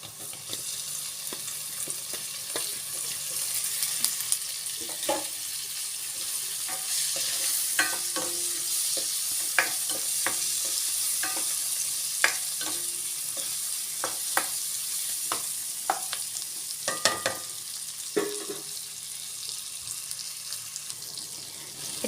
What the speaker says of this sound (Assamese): এতিয়া মই এয়া কাটি লোৱা বিলাহী লৈছিলোঁ, এই বিলাহী সৰু সৰুকৈ কাটি লৈছোঁ। এতিয়া মই ইয়াত দি দিম।